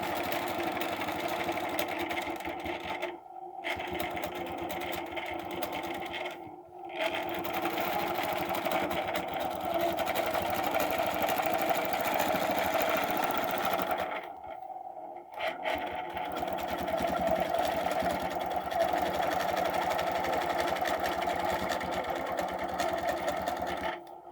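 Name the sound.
sewing machine stitching across a design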